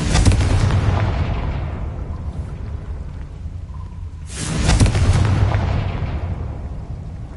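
A Confringo blasting spell in the video game Hogwarts Legacy sets off two loud, booming explosions a few seconds apart, each a sharp burst trailing into a long rumbling decay.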